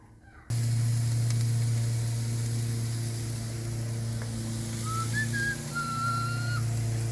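Chicken for enchiladas grills in a pan with a loud, steady sizzle that starts abruptly and holds, a faint whistling tone drifting over it, with no talking.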